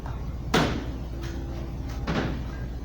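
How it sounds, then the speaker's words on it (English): A chair grabbed and shifted in a fitness room during a mat yoga class, giving two distinct knocking scrapes about a second and a half apart over a steady room hum. "I'm gonna grab my chair."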